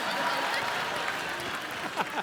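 Studio audience on an Indian comedy talk show applauding to welcome an Indian tennis star, a dense, steady wash of clapping across the whole moment with no break.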